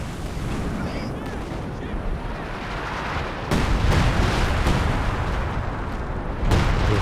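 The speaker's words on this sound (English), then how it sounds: "That's the Sextons to fire again here." British Sexton self-propelled artillery fires a barrage in the Company of Heroes 2 strategy game, with loud booming blasts and a dense rumble under commentary.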